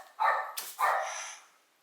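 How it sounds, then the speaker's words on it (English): A dog gives two sharp barks close by, the second trailing off, with nothing else around them. "Someone's coming in, so the dog is barking."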